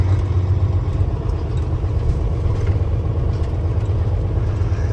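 A truck engine drones steadily up close as it drives out of a yard, a low rumbling hum with faint clatter that holds at an even loudness throughout.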